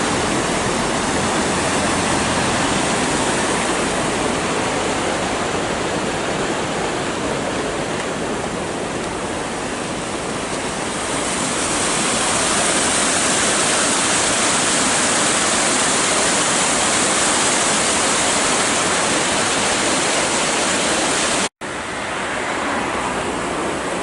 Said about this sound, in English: you can canoe down that bit an awful lot more safely than if you went hurtling across that weir